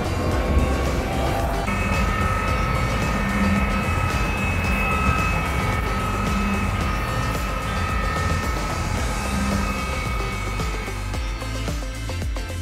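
A Krone baler takes in its first swath on a field and presses its first pellets, giving a loud, dense, continuous mechanical roar with steady tonal whines layered on top.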